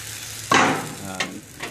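A utensil scrapes and stirs crepe batter in a frying pan with a couple of brief scraping strokes over a soft sizzle.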